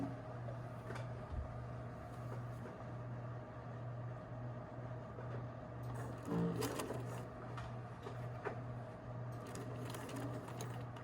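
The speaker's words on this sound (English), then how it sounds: "So needle position to the far right so that it's sewing close to the folded edge." A sewing machine runs steadily with its needle set far right, stitching a folded skirt hem close to the edge for a McCall's 8051 skirt, with a continuous mechanical hum and a few brief clicks partway through.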